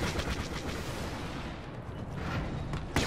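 A deployed vehicle turret in Star Wars Battlefront keeps up dense, rapid, booming fire mixed with battle noise. It is loud and continuous, with a sharp blast near the end.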